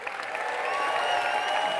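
Loud audience applause with some cheering at a juggling award show, sustained clapping from a large crowd that swells and holds steady, with no voices speaking over it.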